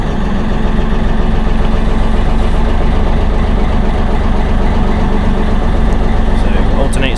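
A 50ft narrowboat's diesel engine runs at a steady idle, a loud continuous low throb with a regular mechanical rhythm, near and unbroken throughout, with a faint click or rattle near the end.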